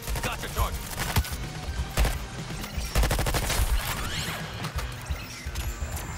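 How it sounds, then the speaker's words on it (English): Dense bursts of rapid gunfire ring out throughout a Flash boss fight in a video game, with sharp cracks and crashing impacts layered over a busy, loud battle mix and no talking. "Okay, now start shooting it."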